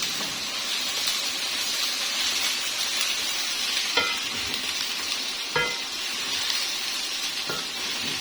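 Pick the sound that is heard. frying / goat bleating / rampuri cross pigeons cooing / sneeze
frying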